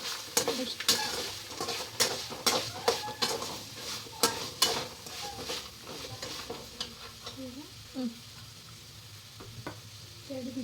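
Repeated scraping stirs of a utensil mixing roasted coconut into a tempering in a pan over a steady sizzle, with sharp clinks at irregular intervals and some faint voice murmurs in the background.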